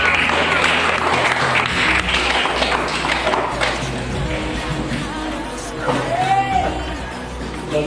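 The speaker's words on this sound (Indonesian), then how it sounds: "Mari kita sama-sama memberikan tepuk tangan untuk" A group in a discussion session claps for the presenting groups, dense clapping under a voice speaking over it, with a brief tonal chirp partway through.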